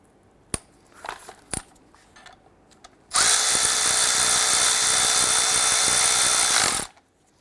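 A power tool tightens a bolt on an alternator bracket of a 2012-2017 Toyota Camry 3.5L, a few faint clicks and taps before a loud, steady whir that runs for about four seconds and stops.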